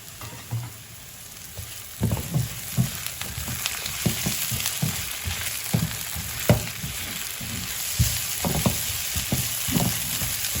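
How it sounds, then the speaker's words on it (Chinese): Small potato slices stir-fried in a dry pot, Sichuan spicy style with scallions, until slightly charred: a steady close sizzle broken by repeated scraping and tossing strokes of a spatula against the pot, with no talking. "可以炒到这种有一点点焦， 因为我们叫干锅小土豆。"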